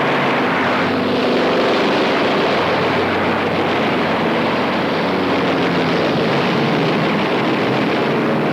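Carrier-based World War II propeller planes attacking in the Battle of the Coral Sea, a loud continuous engine drone with a steady throbbing roar that fills the whole span.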